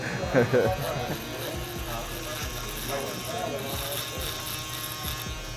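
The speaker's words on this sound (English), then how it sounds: "We're just gonna go ahead and shave the sides too" Electric foil shaver buzzing steadily as it cuts hair on the sides of the head during a blurry fade haircut with curls, close up, with a continuous motor hum and talk over it.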